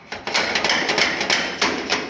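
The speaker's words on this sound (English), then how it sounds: "then I'll take a hammer" Hammer tapping a new sheet-metal cowl into place on a 1948 Chevy truck before welding, a series of about eight sharp close metallic knocks in an irregular rhythm.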